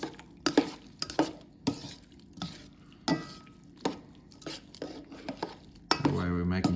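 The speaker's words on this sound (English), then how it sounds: "we're now just getting it all covered in that marinade that we made" Octopus being stirred and tossed through a homemade marinade in a bowl: close, irregular clinks, scrapes and wet knocks of utensil against dish, ending in a louder, continuous churning rustle.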